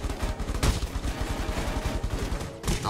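Rapid automatic gunfire from the Rules of Survival shooter game, a steady stream of close, loud shots, with a brief gap partway through and no talk over it.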